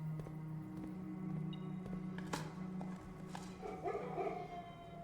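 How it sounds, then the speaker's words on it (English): Dogs bark in the video game Blue Prince, several short yips and barks over a low steady hum of game ambience. "Door unlocked because of the dogs."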